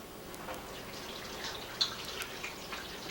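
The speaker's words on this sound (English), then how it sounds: "you don't need the water running so fast" Water running from a kitchen tap, a steady broadband rush with light splashes and drips, moderately close and unbroken by speech.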